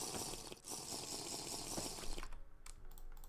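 Water being collected in a modded survival video game, a steady splashing, pouring rush for about two seconds, followed by a few quieter clicks and taps.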